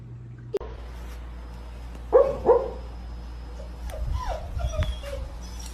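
A dog whimpers in two short, loud cries, then gives softer yips and whines that trail off over a steady low hum, with no one speaking.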